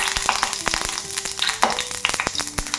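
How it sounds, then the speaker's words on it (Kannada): Urad dal sputters and crackles in hot ghee in a pan for a temple-style curd rice tempering, with close, dense popping and a few scraping stirs. "ಉದ್ದಿನಬೇಳೆ ಸ್ವಲ್ಪ ಫ್ರೈ ಆಗಬೇಕು"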